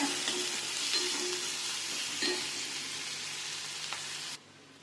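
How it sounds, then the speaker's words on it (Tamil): Finely chopped onion and garlic sauté in a pan for a bitter gourd curry, giving a steady close sizzle with light stirring clicks that drops off abruptly near the end. "பூண்டும் போட்டு நல்லா வதக்கிக்கலாம்"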